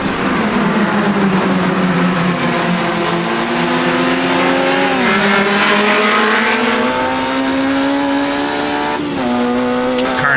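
A Formula Junior race car in Automobilista 2 brakes heavily into a 90-degree right-hander on a bumpy village course, the loud engine note dropping through downshifts and rising again with squealing tires, close and continuous.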